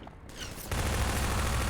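Sustained burst of gunfire in the video game Half-Life 2, loud and dense, starting after a quieter lead-in and continuing steadily to the end.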